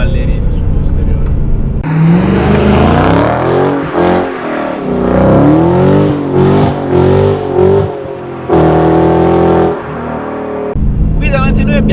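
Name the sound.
Dodge Challenger SRT 6.1 Hemi V8 accelerating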